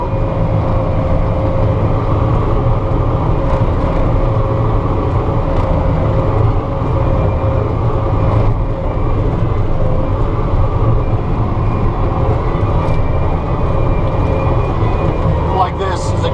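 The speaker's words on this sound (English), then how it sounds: "So I'll go forward, pick up my load, and then kind of K-turn out of it, kind of drive up the hill at an angle" A Bobcat T770 skid steer carries a grapple load at an angle up a slope, its engine giving a continuous loud rumble with clanks and rattles throughout and no pauses.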